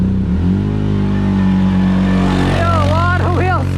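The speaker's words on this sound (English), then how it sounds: "A lot of wheel spin." A Yamaha Rhino UTV engine drones loudly and steadily on a drag run, then rises in pitch with warbling, sweeping tones near the end as the tires spin.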